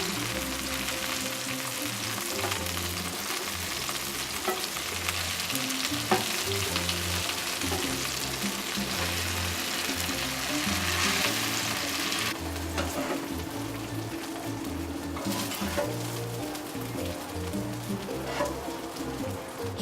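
Battered tailor fish frying with tomatoes in a pan, a constant close sizzle with bubbling crackles and occasional stirring clatter over about twenty seconds, no voices.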